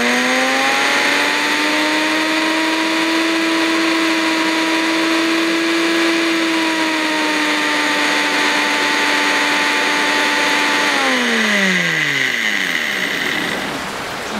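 A BARDEFU 6 in 1 blender grinds coffee beans at high speed, a loud, steady motor whine that holds for about eleven seconds, then drops in pitch as it winds down.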